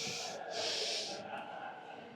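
A single sharp, hissing inhale during a strength-training set, close to the microphone, drawn in two quick pulls over about two seconds.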